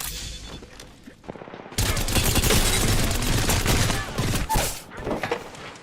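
Rapid bursts of automatic gunfire in the battle royale shooter Apex Legends, quieter shots at first, then a loud, sustained fusillade of close, overlapping rounds that swells and dips in volume through the firefight.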